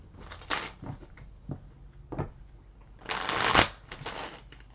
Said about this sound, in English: Bear with me while I get all the cards shuffled and laid out for you.